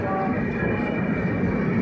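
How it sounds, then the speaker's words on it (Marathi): Steady low rumble of a train to Visakhapatnam departing Pithapuram station, rolling along the tracks nearby, a continuous broad drone with no clear pauses. "बघा ही म्हणजे आम्ही आलेली ट्रेन आता चालली आहे विशाखापट्टणमला चाललेली आहे ती"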